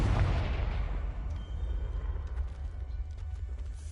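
A Confringo fire spell cast in the Hogwarts Legacy video game bursts out as a loud, heavy boom with rumbling low-end blast energy that slowly decays over several seconds, with no talking.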